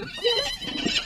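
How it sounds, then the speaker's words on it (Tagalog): A horse lets out a short, loud whinny close by, its rising and falling cry filling the brief moment with no speech over it. "Lumihok man ang kabayo."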